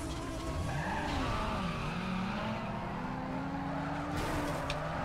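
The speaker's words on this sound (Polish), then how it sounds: "Mamy drift i zobaczcie jaki konkretny." A Toyota Supra drifts in Need for Speed Underground 2, its tires squealing in long, wavering tones over a steady engine roar that continues for the whole stretch, with no talking.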